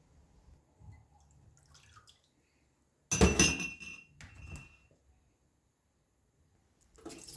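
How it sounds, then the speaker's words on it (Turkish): Water tipped out of glasses into a sink, with a short quiet patch of trickling followed by a loud splash and clinking of glass, then a few faint drips. "Bardaklarımı lavabo içine alıp suyu döküp sonrasında da yıkama aşamasına geçmek istiyorum"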